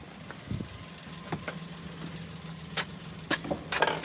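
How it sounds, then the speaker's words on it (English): A small kei car with a motorcycle-sized engine idles with a faint, steady low hum, broken by a few scattered clicks and knocks. "It's the size of the engine that makes it a K car. It's like has a motorcycle engine in it."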